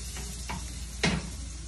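Onions sautéing in a pan, a soft steady sizzle with a few louder stirring scrapes, one sharper clatter near the end; quiet, close and without talk.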